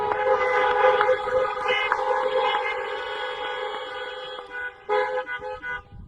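Several car horns blare together in a long, sustained chorus at a high school graduation, then a few shorter honks sound in bursts.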